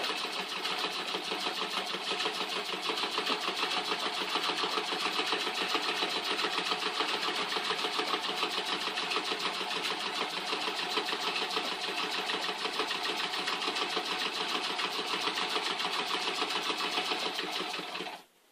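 A treadle sewing machine chain sews quilt pieces in a steady, even mechanical whir with a fast rhythmic clatter, close and continuous, stopping abruptly at the end.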